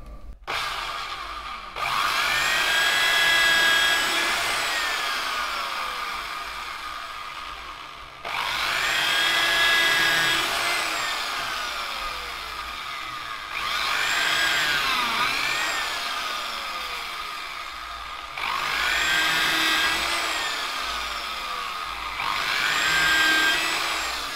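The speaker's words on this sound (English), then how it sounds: "I'm going to do mine with a drill, just drilling along exactly like I did with the awl." A power drill boring stitching holes along a leather sheath for a Bowie knife, several sustained whining bursts separated by short pauses, close and clear with no talking.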